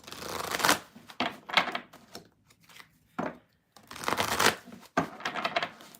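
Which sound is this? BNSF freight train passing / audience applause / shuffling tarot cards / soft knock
shuffling tarot cards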